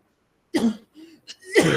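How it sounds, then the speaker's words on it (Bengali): A child gives a short cough and throat-clear, two or three quick close bursts separated by brief pauses, with no speech. "একটু কাশি দিয়ে দিল"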